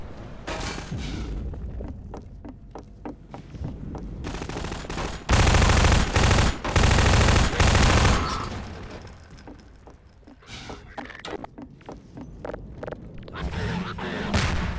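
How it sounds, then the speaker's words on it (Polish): Gunfire aimed at the player in Half-Life 2: rapid, repeated shots with bursts of automatic fire, swelling into a loud, dense volley midway before thinning back into scattered cracks. "Tylko trzeba uważać, bo do mnie strzelają."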